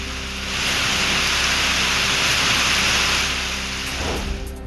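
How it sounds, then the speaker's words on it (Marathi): Steady pre-monsoon rain pours down across rural Bhor taluka in Maharashtra, a dense continuous hiss with no voices, holding level throughout and easing slightly near the end. "भोर तालुक्यामधील अनेक ठिकाणी मान्सूनपूर्व पावसाच्या सरी कोसळल्यात"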